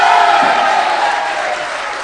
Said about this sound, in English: as you're hearing from the UAE crowd